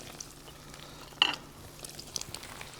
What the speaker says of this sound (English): So to this, we're actually gonna add the burger patty.